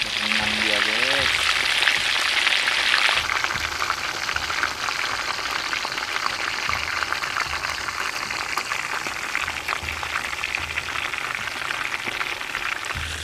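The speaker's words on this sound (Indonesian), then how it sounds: "Ayamnya digoreng utuh ya" Steady, loud sizzling and crackling of a whole wild junglefowl frying in hot oil fills the clip, a dense hiss with a brief tonal chirp at the start.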